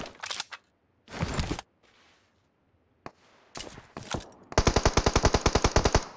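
Gunfire in the mobile shooter PUBG Mobile: a few short automatic bursts separated by gaps, then a sustained rapid burst of evenly spaced shots at the end, loud and crisp with no voices.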